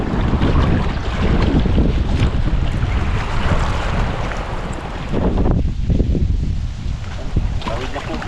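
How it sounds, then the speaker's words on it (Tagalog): Strong typhoon wind buffets the microphone in a loud, continuous roar, mixed with the rush of a flooding river, while a voice talks underneath. "Grabe, lakas ng hangin."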